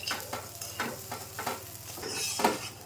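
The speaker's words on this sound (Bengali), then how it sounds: "চালটা খুব সুন্দর করে ভেজে নিলাম" Rice frying with cashews and raisins is stirred in a pan, with several close scraping strokes over a continuous hiss of sizzling oil.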